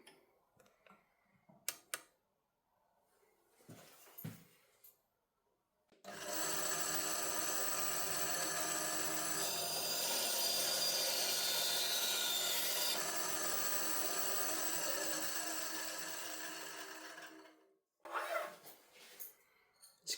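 A Titan band saw cuts through wood in one long, continuous pass, a loud steady whine with a rasping edge, framed by quieter handling clicks and knocks before and after.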